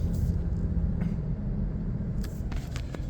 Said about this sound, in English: here's some Jakarta traffic